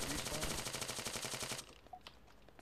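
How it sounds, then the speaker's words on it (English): Rapid gunfire from a pistol in a video game rattles loudly and densely for about a second and a half, then cuts off, leaving a quieter stretch with faint clicks and game sounds. "I just shot this guy 3 times."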